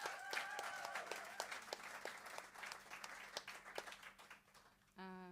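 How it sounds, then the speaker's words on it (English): Live concert audience applauding the band, a moderate burst of clapping that thins and fades over a few seconds, with a voice heard faintly alongside and a sustained musical tone entering at the end. "Please give them another round of applause."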